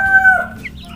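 A KUB chicken about two months old vocalizes up close, a short clucking call with a slight crowing tone, heard alone against quiet background hum.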